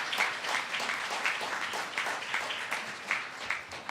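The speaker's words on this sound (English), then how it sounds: "So let us give Jordan another round of applause." An audience applauds Jordan Harris at a Pennsylvania governor's briefing on the Clean Slate law, a steady, moderately loud wash of many hands clapping with small swells, and no talking over it.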